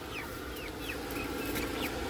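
Chickens on a farm on a hot day cluck and murmur softly in the background, a steady faint flock chatter with scattered short calls and no voices.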